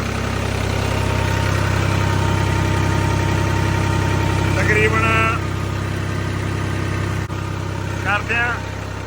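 A farm generator engine on a village farm in Punjab runs at a steady idle, a loud continuous drone that holds throughout, with brief bursts of nearby chatter rising over it twice.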